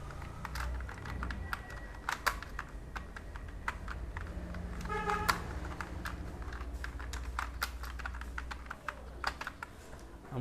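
Fingers tap steadily on a computer keyboard, typing an organisation's name while laying out a round seal design, a close run of crisp, irregular key clicks with a few louder strokes and no voices.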